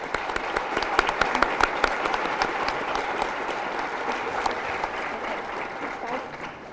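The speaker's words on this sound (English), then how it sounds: "one more round of applause, please" An audience at a school awards ceremony applauds, a dense, steady wash of many hands clapping that holds evenly throughout, moderately loud and filling the room.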